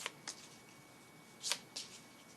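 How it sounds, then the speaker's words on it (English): Tarot cards from a deck are shuffled in a quiet room, a few soft riffling bursts spaced apart, close and fairly faint. "So now I'm going to pull from my new deck, The Soul's Journey."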